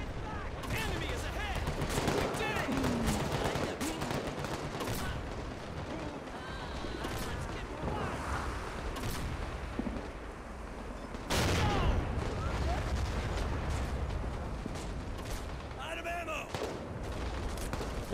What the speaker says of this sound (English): Are they still firing?